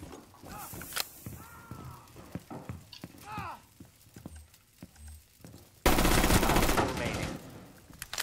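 Gunfire in Rainbow Six Siege: scattered single shots under chatter, then a loud sustained burst of automatic fire near the end.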